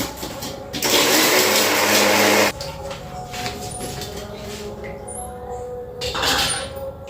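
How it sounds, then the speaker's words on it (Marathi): A kitchen mixer grinder pulverises garlic and green chillies in a loud, steady whir for under two seconds, then stops, leaving quieter clatter and a short second burst near the end. "आधी लसूण आणि हिरव्या मिरच्या वाटून घेते बारीक"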